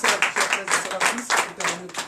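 Congregation clapping in rhythmic bursts during acclamation at a night deliverance church service in Comè, Benin, with voices calling out over the claps.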